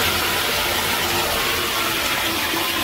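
Water rushing down a bathtub drain in a tiny house bathroom under construction: a loud, steady gushing and gurgling flow that continues unbroken, close up, with no talking.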